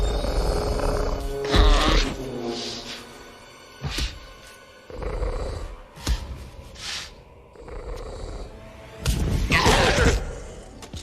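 Velociraptor hunting calls built from male dolphin, horse and goose sounds, a series of harsh, rasping shrieks and snorting roars in several separate bursts, loud and close with short pauses between.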